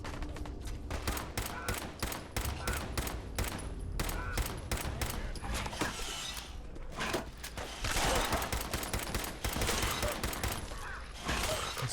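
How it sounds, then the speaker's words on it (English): Rapid gunfire from Fallout 4 combat crackles in dense, repeated bursts of sharp shots with mechanical clatter, continuous and fairly close throughout. "Alright, Codsworth, start blasting."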